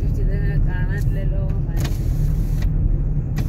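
Car moving slowly along a cold forest road, a low steady engine rumble and road noise inside the cabin, with a few clicks and people talking over it.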